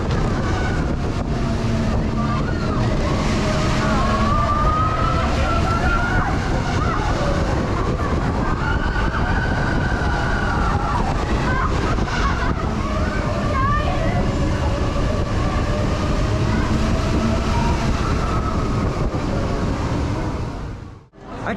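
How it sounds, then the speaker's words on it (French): An electric-powered roller coaster train at Europa Park rumbles and whooshes continuously along its track, wind buffeting the microphone, with faint riders' voices and rising and falling tones for about twenty seconds. "C'est un coaster propulsé par l'énergie électrique dans le train."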